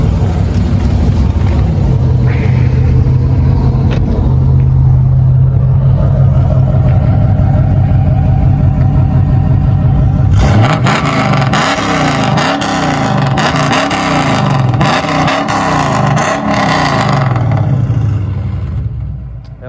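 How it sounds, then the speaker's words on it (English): A tuned 300 hp BMW F10 528i idles with a low rumble, then its engine is revved hard in repeated surging bursts that rise and fall, loud and close, before settling back down. "Do I get a rev for the video?"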